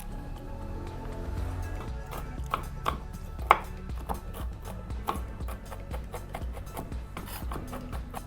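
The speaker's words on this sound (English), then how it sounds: "And I'm gonna chop some peanuts." Peanuts chopped with a knife on a cutting board: a steady run of crisp, close knife strikes with irregular rhythm, a few sharper louder chops standing out, no talking.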